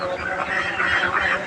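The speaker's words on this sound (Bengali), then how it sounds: "এই যে হাঁসের খামার, কত সুন্দর হাঁস।" Ducks on a rural duck farm beside a fish pond quack steadily in a close, loud chorus of overlapping calls.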